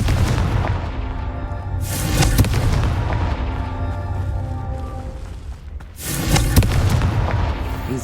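Fiery Confringo spell blasts in Hogwarts Legacy, two loud booming bursts with crackling fireworks-like tails separated by a rumbling lull, set over a dense game soundscape of battle and music.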